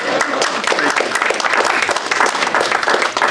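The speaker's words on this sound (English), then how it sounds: "Clap it up" Audience applause at a White Cane Awareness Day 2024 event, a steady burst of many hands clapping throughout, fairly close and loud, with a few voices mixed in.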